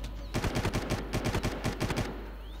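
Automatic gunfire in the video game Far Cry: a rapid burst of about a dozen evenly spaced shots lasting under two seconds, loud and close, with quiet before and after.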